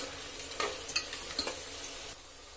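Masala frying in oil in a pan for egg biryani, with a soft sizzle and a few distinct stirring scrapes and clinks spread over a couple of seconds, close and fairly quiet.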